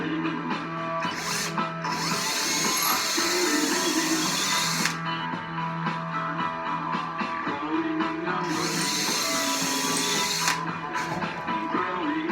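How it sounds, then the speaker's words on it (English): A power drill pre-drills a hole while a wooden stool is being assembled, running in two whirring bursts of a couple of seconds each over a steady background hum. "now I'm gonna go ahead and pre-drill this one."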